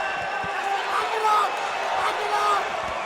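A few sharp claps marking the ten-second warning during an MMA bout at FAC 18, short percussive hits over a murmuring crowd and ongoing commentary.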